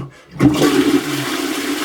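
A toilet flushes with a loud rush of water that starts suddenly and keeps running steadily, heard after a failure of the municipal water supply that left sediment in the water.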